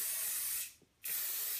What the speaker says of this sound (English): you want to see the discoloration from spraying the stuff on.